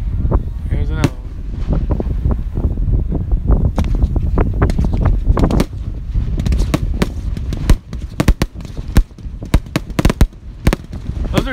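Fireworks burst at a small high school display, a dense run of sharp cracks and pops in quick irregular succession, fairly loud and close, with wind noise on the microphone and occasional voices in the background.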